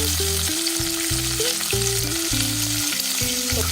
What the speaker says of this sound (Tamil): சின்ன வெங்காயம் வந்து பார்த்தீங்கன்னா ஒரு பதினஞ்சு வெங்காயம் சேர்த்துருக்கேன் சேர்த்துட்டு இதை நல்லா வதக்கி விட்டுடலாம்